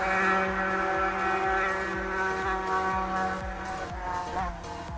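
A loud motorboat engine running steadily close by on a river or pond, a continuous droning hum with rhythmic low thumps that holds throughout.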